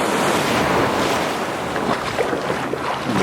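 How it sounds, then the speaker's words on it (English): Ocean surf breaks and rushes around someone wading out past the breakers on a beach, a loud, continuous wash of water with heavy wind noise buffeting the microphone. "I'm gonna wade out here into the water. I feel like it's safe enough because the waves aren't that big."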